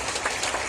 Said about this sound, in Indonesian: tepuk tangan dulu untuk kita semua di sini